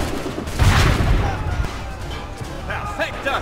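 A loud burst of gunfire from Assassin's Creed III erupts early, followed by quieter game ambience and a few faint bright chirps.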